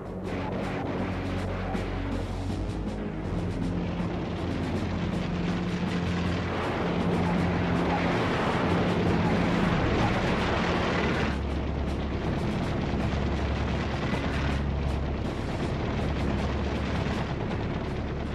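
Korean War bombers striking North Korean hydroelectric plants, with Sabre jets flying cover: a continuous loud roar of bombing and explosions rumbles throughout, swelling and surging in dense bursts with no speech over it.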